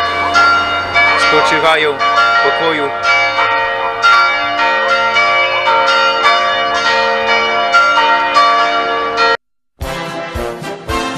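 Church bells ring loudly and continuously at a war memorial in Sumina, Gmina Lyski, Upper Silesia, tolling for fallen soldiers, their long overlapping tones cutting off briefly near the end while someone speaks over them.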